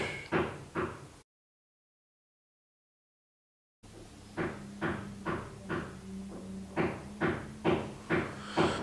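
Rhythmic hammering and knocking from construction work outside, a steady series of sharp thuds in quick groups with a low droning hum underneath, heard from indoors at moderate distance, with a stretch of silence partway through.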